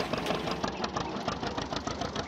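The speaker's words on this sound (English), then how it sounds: "Come on, tractor, go backwards." A tractor engine in Farming Simulator 2013 chugs steadily at idle with a rapid, even knocking rhythm, loud and close throughout.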